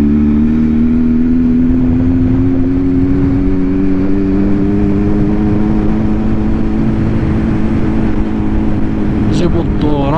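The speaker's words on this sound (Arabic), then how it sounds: "هوندا NCX 750 موتور اللي زوين تبارك الله." A Honda NC750X motorcycle engine runs steadily, loud and close, with a constant low hum under road noise throughout and a brief sharp sound near the end.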